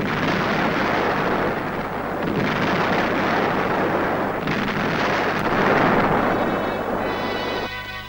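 Heavy artillery fire and explosions during the Soviet assault on the Reichstag in Berlin, a continuous dense roar of blasts and rumbling booms that stays loud throughout.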